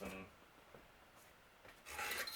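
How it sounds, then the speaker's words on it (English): Rasping strokes of a file on plastic inside an electronic drum toy being circuit bent, faint and close, with a few brief scrapes and then a louder stroke at the end. "file down some plastic there to give myself some room"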